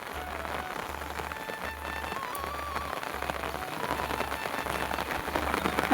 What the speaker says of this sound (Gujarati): વરસાદ થોડોક વધારે ચાલુ થઈ ગયો હે